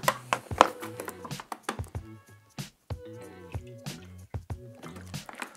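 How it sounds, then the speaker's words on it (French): Water poured into a glass holding absorbent powder from diapers gives a run of wet drips, squishy splashes and trickling, close and moderately loud, with no voices. "On va ajouter l'eau."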